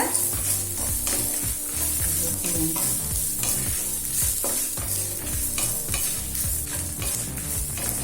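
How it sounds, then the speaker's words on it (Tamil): Fifty grams of ginger, about a quarter cup, is sautéed on low heat for ginger chutney, with a constant close sizzle and frequent sharp scraping and clattering strokes of a spatula against the pan. "ஸ்லோலே வச்சு இஞ்சியை வதக்குங்க"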